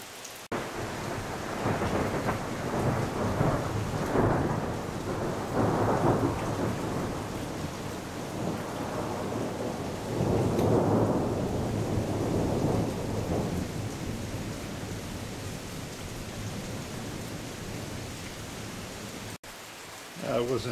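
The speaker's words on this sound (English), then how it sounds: "As usual, we even had some thunder." Afternoon thunderstorm with heavy rain, deep rolling rumbles of thunder rising and fading several times over a steady hiss of rainfall.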